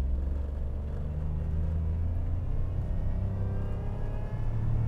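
A Toyota Raize engine held at full throttle while climbing a steep hill, a steady low droning rumble heard from inside the cabin, continuous and moderately loud.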